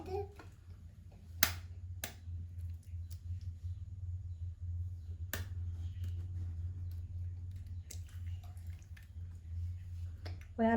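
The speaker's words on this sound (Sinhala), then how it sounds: "අපි බිත්තර දෙක කඩලා දාගමු." Two eggs cracked into a bowl in a home kitchen: a few sharp, close cracks and taps stand out over a low, constant hum, with long quiet gaps between them and no talk.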